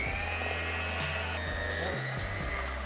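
An electric beater mixes sponge cake batter with a steady, close, whirring motor whine that runs without a break, with slight shifts in pitch as it works through the mix.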